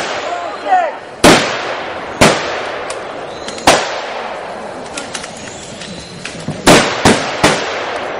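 Sharp gunshots from a reenacted battle between UPA insurgents and NKVD troops crack out one at a time at irregular intervals, loud and echoing outdoors over a low background murmur.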